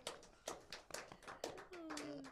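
An audience at a variety show claps in a few short bursts, soft and scattered, with a voice entering near the end.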